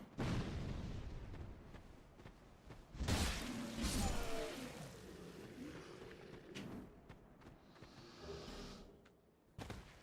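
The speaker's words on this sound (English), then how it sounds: "he's going to move out the way of that guy throwing bombs" Bombs thrown by an enemy explode in a video game, with a couple of loud bursts and rumbling blasts, the biggest around the middle and a sharp pop near the end, over quieter game noise.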